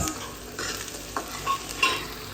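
Tempering spices for dal makhani sizzle and crackle in hot oil close by, with a few stirring scrapes punctuating the steady frying hiss.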